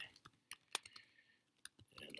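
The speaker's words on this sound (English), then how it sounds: "I'm going to type a headline." Quick, light computer keyboard keystrokes tap out a headline in short uneven bursts, close and quiet, with faint speech-like sound in the background.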